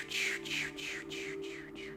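Voiced exhale released after a held breath, a pulsing breathy sound in about six repeated surges, quiet and close with no words.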